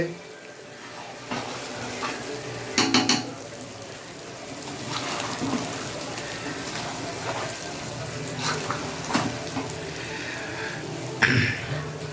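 Mutton sizzles in an old, generations-used wok as it is stirred, a steady fry hiss broken by occasional scraping clatters, close and fairly quiet, with a voice speaking intermittently.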